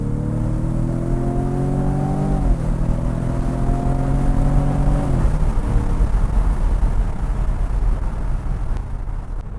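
A 2020 Jaguar F-Type 2.0 P300 four-cylinder accelerates hard in sport mode, its engine note climbing through two upshifts before settling into a steady road and engine roar.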